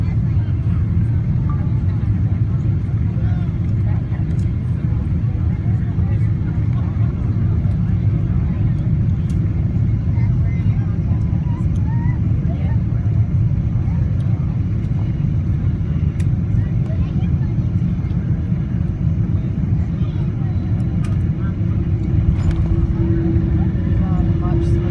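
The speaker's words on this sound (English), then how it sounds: "About 200 feet off the ground now. Let's hope for a smooth landing." A United Airlines Boeing 777-200 airliner lands in Honolulu, heard from inside the cabin as a loud, constant low engine and airflow roar that holds steady throughout, with a faint rise near the end.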